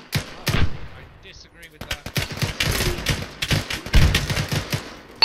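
Rapid bursts of rifle and machine-gun fire in a multiplayer military shooter video game, close and sharp, cracking irregularly throughout with a voice talking over part of it.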